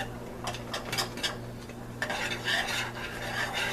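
Whisk scraping and stirring powdered flavoring into food in a pot, a few brisk strokes followed by a steadier stretch of rubbing, close and moderately loud.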